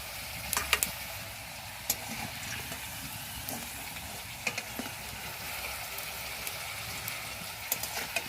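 Pointed gourd fries in hot oil in a pan over a smoky earthen stove, a steady soft sizzle with occasional light clicks of stirring scattered through.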